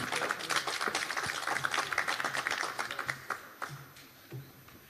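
An audience at a political party event applauds ministers with a dense patter of many hands clapping that thins out and fades toward the end, with a few scattered claps remaining.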